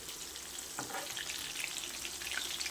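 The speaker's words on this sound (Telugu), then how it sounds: "చూడండి, ఫ్రై అవుతా ఉంది." Vanjaram (Anjali) fish deep frying in hot oil, a steady soft crackling sizzle with faint bubbling throughout, fairly quiet and close, no voices.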